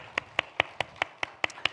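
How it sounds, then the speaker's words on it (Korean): A church congregation gives a round of applause during a Sunday afternoon service, heard as about eight crisp, evenly spaced claps in a steady rhythm over a quiet room. "우리 하나님 앞에 먼저 영광의 박수 올려드립니다."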